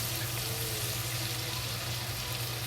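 Scallion and ginger frying in a wok, a steady sizzle held at one level under a low hum throughout, with no voices.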